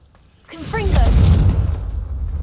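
A Confringo spell explosion in Hogwarts Legacy swells into a loud, deep boom that rolls on as a sustained rumble, with a brief voice over its start.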